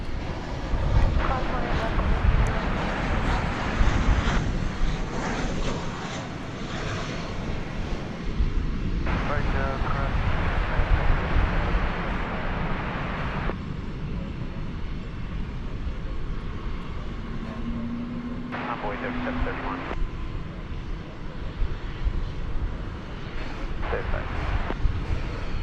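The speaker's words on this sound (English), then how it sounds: "We have American Flight 1564 about to touch down. It's a 737-800." An American Airlines Boeing 737-800 touches down at DFW airport, a broad, loud rumble of jet engines and wind noise that swells and shifts over the whole stretch.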